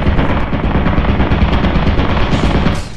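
A turret in the video game Lethal Company fires a machine gun in one loud, unbroken rapid burst lasting about three seconds.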